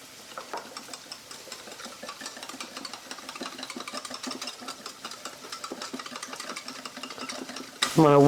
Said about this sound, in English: I'm going to whisk that really well.